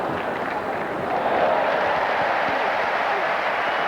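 A large Wimbledon crowd applauds steadily after a ball boy makes a one-handed catch of a ball fouled back into the stands during a 1999 third-round match, a dense, sustained roar of clapping at moderate distance.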